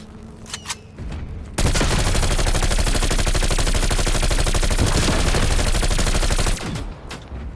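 Sustained automatic gunfire in the video game Call of Duty Cold War Zombies, loud and close, starts abruptly after a few light clicks and hammers on rapidly for about five seconds before cutting off.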